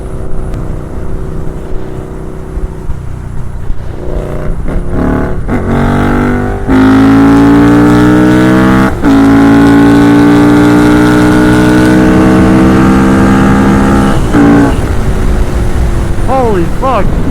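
A KTM Superduke 1290 R motorcycle with a Rotwiler Performance Stage 3 exhaust and Bren Tuning runs on a dyno, idling with blips before a long loud rising rev that cuts off and drops away; voices are heard early on.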